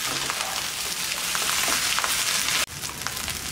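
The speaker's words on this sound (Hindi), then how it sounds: "अब 2 से 3 मिनट के लिए अच्छी तरह से हम तेज़ आंच पर चावलों को मसाले में मिक्स" Rice being stir-fried with spices over high heat for egg pulao gives off a steady, bright sizzle and crackle close by, with scraping noises mixed in and a brief dip near the end.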